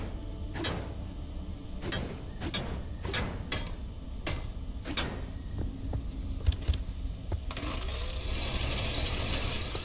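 Scrapping a car for parts in Pacific Drive: a series of sharp metallic clanks and pries spaced irregularly, then a sustained hissy grinding rise near the end, fairly quiet overall.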